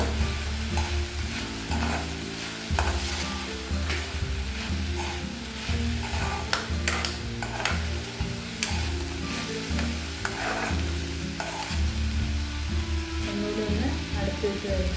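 Eggplant thoran stir-fry sizzling in a pan while being stirred, with steady frying crackle and repeated scraping of the spoon against the pan throughout, and a voice talking over it.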